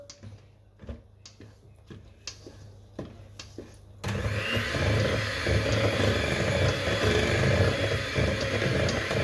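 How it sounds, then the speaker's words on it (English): A mixer grinder blends gluten-free dark chocolate cake batter. Faint clicks and handling come first, then a loud, steady whirring roar starts abruptly and runs to the end. "And then you mix it with the mixie."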